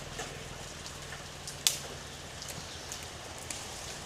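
Rain falls steadily in a soft, faint hiss, with one sharp drip-like tick cutting through midway and no voices.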